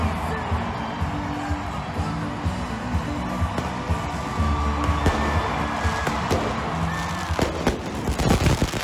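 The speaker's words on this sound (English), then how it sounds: "The fireworks are shooting into the crowd." Fireworks bursting and crackling over a live crowd, a dense continuous barrage with sharper pops toward the end, set against constant crowd noise and cheering.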